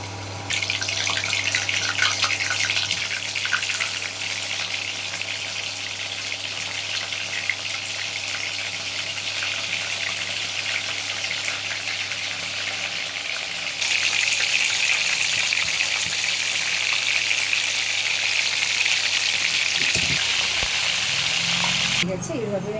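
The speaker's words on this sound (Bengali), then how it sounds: "এবার আমি মাছগুলো ছেড়ে দিচ্ছি।" Bombay duck fish chops frying in oil, heard as a continuous strong sizzling, gushing hiss that carries on without a break and grows brighter partway through, then cuts off near the end.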